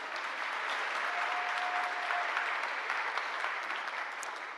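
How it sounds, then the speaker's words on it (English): A large audience claps steadily and warmly for the Dillard University Concert Choir at a 2024 Founders' Day ceremony, with dense, even applause filling the hall throughout. "Let's give the Dillard University Concert Choir another round of applause."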